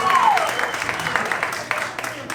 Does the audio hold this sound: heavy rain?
no